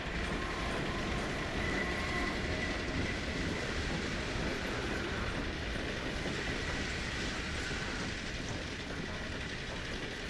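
A train in the video game Half-Life 2 rolls past with a steady, continuous rumble and faint rhythmic clatter that holds at a constant level throughout, with no talking.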